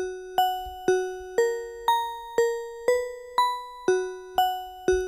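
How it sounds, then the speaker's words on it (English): A bell tone synthesized in Serum, struck about twice a second, each note ringing and decaying quickly, stepping through a few pitches in a clean, even rhythm. "So that's a nice bell sound already."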